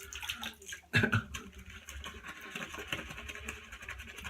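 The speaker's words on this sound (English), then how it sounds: "now it's slathering everywhere, splashing" Water splashes and sloshes softly at close range during shaving lather preparation, with an overly wet mix. One sharper splash stands out early, followed by a low, continuous wet churning.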